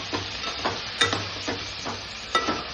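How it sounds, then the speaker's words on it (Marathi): Eggplant (brinjal) frying and being stirred in a pan, a steady close sizzle broken by several louder scraping stirs spread evenly through the clip, with no talk. "अरे वांगी मस्त फ्राय करून घ्यायची."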